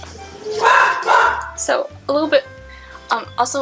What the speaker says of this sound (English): why is my dog barking in the background?